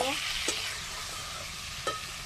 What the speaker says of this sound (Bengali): আলুর সঙ্গে মশলাটা ভালো করে একটু কষিয়ে নেব।